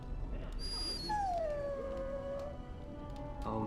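A dog whimpers in Dragon Age: Origins, a single drawn-out high whine sliding slowly downward, soft under the game's ambient background.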